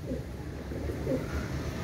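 Pakistani pigeons coo softly in a loft, a few low murmuring calls over a steady background hum.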